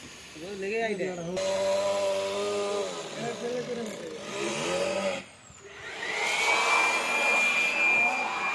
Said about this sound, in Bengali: নতুন মেশিন দেখতে পেয়েছ ধুলা উড়ানো হচ্ছে